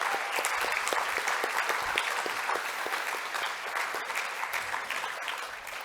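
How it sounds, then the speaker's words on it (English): An audience at a closing plenary of a suicide lived-experience summit applauds itself, dense steady clapping from a sizeable crowd sustaining for about six seconds and easing slightly near the end. "So please give yourselves a round of applause."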